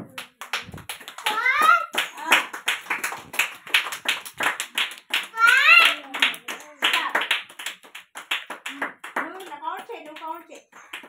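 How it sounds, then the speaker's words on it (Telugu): Anganwadi children clap their hands in a rapid, uneven run of sharp claps close by, mixed with high children's voices calling out over the clapping. "ఫస్ట్ మీరు క్లాప్స్ కొట్టండి"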